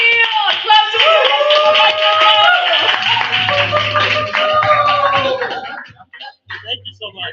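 An open mic comedy crowd claps and cheers for a comedian, a dense wash of applause mixed with whoops and voices that thins out and drops away near the end.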